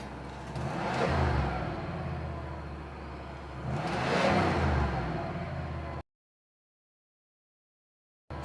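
A 1986 Mercedes-Benz 560SEL with a slight exhaust leak and a high idle revs up twice in long rising-and-falling swells between steady idling, heard close, before the sound abruptly cuts to silence.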